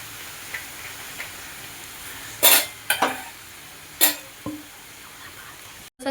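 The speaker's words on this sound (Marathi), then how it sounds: "आता ह्याला छान असं मिक्स करून घेते." Veg Schezwan fried rice is stirred and mixed in a pan with a spoon, giving several distinct scraping clinks against the metal over a steady faint sizzle.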